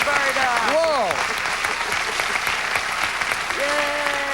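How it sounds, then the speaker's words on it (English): A game show studio audience applauds loudly and steadily while voices whoop and cheer over the clapping. "let's have a round of applause for Roberta, please"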